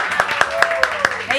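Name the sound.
people clapping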